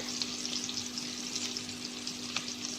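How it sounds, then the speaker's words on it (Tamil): Onions frying in a pan for Tamil-style tomato chutney, a steady close sizzle with light crackles and faint stirring, no voices. "இப்போ வெங்காயம் வந்துட்டு கொஞ்சம் நேரம் நல்லா ஃப்ரை ஆகட்டும்."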